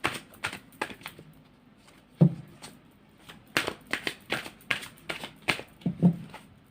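Tarot cards being shuffled by hand, a quick run of crisp riffling slaps and flicks in irregular bursts, close and fairly loud with no voice over them.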